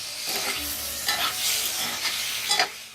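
Chopped tomatoes and potatoes stirred in a hot sizzling pan for aloo matar, a continuous frying hiss with several scraping spoon strokes, close up.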